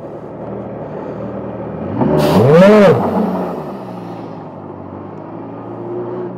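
A Formula Regional F3 single-seater race car engages first gear and pulls away, giving one loud, brief rising rev that swells and then fades back to a low idle rumble. No voices.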